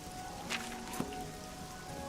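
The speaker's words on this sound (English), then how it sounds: "The rain is like really loud in my headphones." Rain falls steadily in the game Oblivion, an even patter of drops heard throughout at moderate level, with a couple of brief faint ticks.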